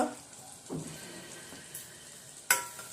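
Chilli powder, goda masala, homemade garam masala and hing being sautéed in a pan give a faint, low sizzle, with a few soft scrapes of stirring and one sharper clink near the end.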